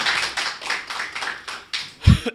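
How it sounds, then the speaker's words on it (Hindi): Brief burst of audience clapping at a Hindi poetry reading, a short patter of hands following a stretch of crowd noise, moderately loud and over quickly. "एक बार तालियां बजाएं"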